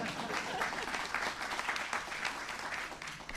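An audience at a state announcement event breaks into sustained, dense clapping that fills the room evenly throughout, with a faint voice beneath.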